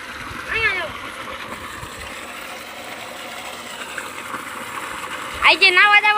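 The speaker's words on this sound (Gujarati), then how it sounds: "પાણી કરી દીધું છે ચાલુ" Water running into a tank at a temple ashram, a steady splashing rush under quiet talk, with brief whistle-like bursts near the start and end.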